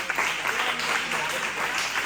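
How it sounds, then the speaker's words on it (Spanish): Applause from a church congregation at an evangelical service, a steady patter of many hands clapping at moderate volume, continuing evenly with faint voices mixed in. "Vamos a dar un aplauso al Señor"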